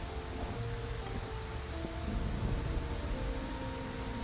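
Steady rain in the video game Scarlet Hollow, a broad, even wash of falling water with faint low tonal tones underneath, continuous and unbroken with no voices.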